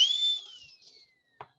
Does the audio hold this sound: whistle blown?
yes